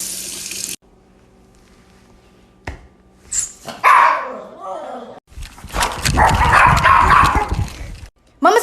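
A dog barks excitedly at a lizard in a home, with loud bursts of barking broken by quiet gaps and a person's excited voice mixed in.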